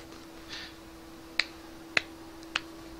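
Three slow, deliberate claps, evenly spaced and crisp, ring out one at a time over a quiet room with a faint steady hum, and no voices are heard.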